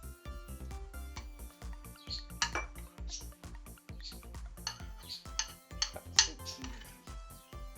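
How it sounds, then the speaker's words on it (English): Tzatziki being spooned into two small bowls, with a close rhythmic series of light clinks and taps of a spoon against dishes, no voices. "So I'll divide that up into 2 little bowls now."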